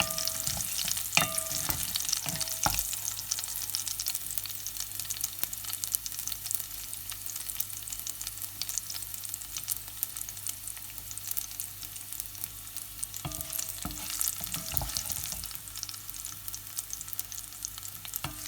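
Garlic fries in a pot for coconut prawn curry, giving a steady, dense sizzle with a few clinks of stirring utensils. It is close and fairly loud, and nobody talks.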